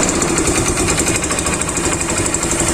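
A motorcycle engine runs steadily after a one-click start, a continuous loud mechanical drone with a rapid rattling pulse that holds close and even throughout.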